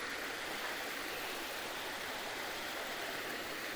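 An artificial river stream runs through a zoo aviary, giving a steady, dense rush of flowing water that holds even and close throughout, with no voices.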